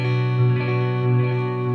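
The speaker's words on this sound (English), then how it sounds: "creating like some lush modulated ambience, like a slight modulated delay and reverb" A sustained electric guitar chord rings out with a lush, wavering shimmer of modulated delay and reverb, steady and full throughout.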